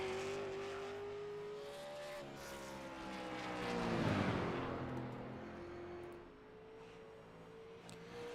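A race car engine in iRacing at Five Flags drones steadily with rising and falling harmonics as it accelerates through its first timed lap, swelling loudest midway as the car passes close, then settling back into a continuous whine.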